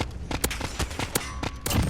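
AN-94 assault rifle in Call of Duty Modern Warfare fires repeated sharp bursts, crisp cracks spaced through the clip with metallic clanging, loud and close with no talking.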